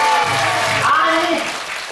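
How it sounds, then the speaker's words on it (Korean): Applause from an audience at a traditional Korean lion dance performance by a city folk music troupe, broad and steady for about two seconds, with voices carrying over it. "그나저나 좀 박수 좀 한번 크게 한번 쳐봅시다."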